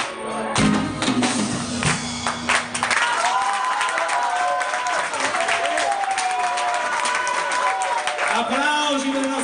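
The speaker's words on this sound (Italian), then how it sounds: "Applausi per il nostro Jenny, dai, fatemi sentire!" A crowd applauds after a live song performance, with steady, dense clapping sustained throughout, mixed with cheering and voices talking over it.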